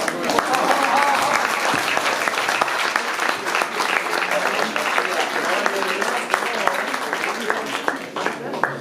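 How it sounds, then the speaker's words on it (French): Audience applause at a painting exhibition in Mafflier fills the whole stretch as loud, dense, continuous clapping from a room full of people. "On applaudit Madame Martetti."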